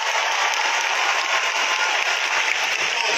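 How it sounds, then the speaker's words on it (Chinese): A large concert audience applauds loudly and continuously during the encore and curtain call, a dense, even wash of clapping with no voices over it. "是现场所有热情的朋友们，你们的掌声。"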